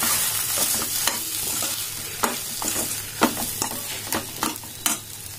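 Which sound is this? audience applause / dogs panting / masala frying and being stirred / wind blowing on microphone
masala frying and being stirred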